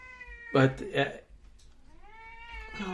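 A cat meowing, two quick loud meows followed by a longer drawn-out rising yowl, close to the microphone over faint background noise.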